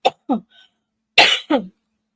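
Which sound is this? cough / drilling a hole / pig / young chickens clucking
cough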